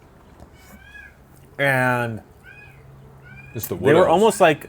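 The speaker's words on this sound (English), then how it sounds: "That's a cat, by the way." A cat in a neighbor's outdoor cage lets out a long, loud meow and later a string of wavering yowls, with faint thinner mews between, as people talk over it.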